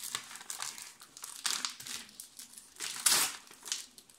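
Advent calendar wrapping paper is torn and crumpled up close, giving soft, irregular crinkling and rustling bursts with one louder rip near the end.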